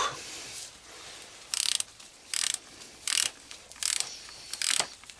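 A hand ratchet tightening a bolt on the clutch of a BMW K1200 GT motorcycle makes five or six short, close, regular bursts of rapid clicking separated by brief pauses, with no talk.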